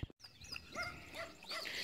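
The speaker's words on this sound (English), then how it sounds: "I guess it's that little black dog barking kind of scared him a little bit." A little black dog yelps and barks in short, close bursts, a few sharp calls spaced across a couple of seconds at moderate volume, with no talk over them.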